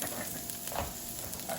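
Garlic, onion and green chili sizzle in hot oil in a pan. The frying hiss is soft and steady, with faint stirring noises and no voices.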